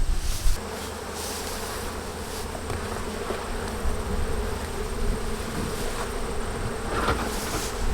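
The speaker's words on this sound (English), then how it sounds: "So you can see all the bees up in the super right now." Honey bees buzz continuously in a dense, droning hum in an open hive's honey super, many insects close by with the pitch wavering slightly as they move.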